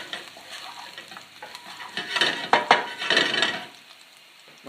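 Ginger, garlic and cumin fry in a pan for an Indian dal, a close steady sizzle that swells as a spoon scrapes and stirs the pan in several bursts, then settles back, with no talking.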